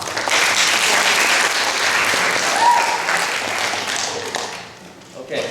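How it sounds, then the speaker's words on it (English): Sustained audience applause at a family reunion gathering, dense and loud for about five seconds before tapering off near the end, with some voices mixed into the crowd noise. "Could we give Xyoo another round of applause?"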